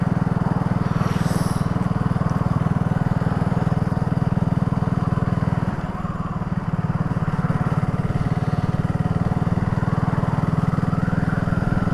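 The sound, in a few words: BSA Gold Star single-cylinder motorcycle engine riding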